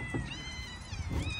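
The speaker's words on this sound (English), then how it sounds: "There's like 10 cats." Several stray cats in Tunisia meow close by, overlapping high wavering cries against a noisy outdoor background, with a short burst of louder meowing near the end.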